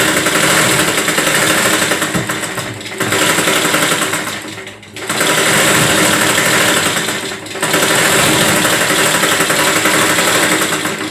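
A sewing machine stitches a blouse in loud, fast, continuous runs. Three long bursts of rapid mechanical chatter are separated by brief pauses, heard up close with no voices.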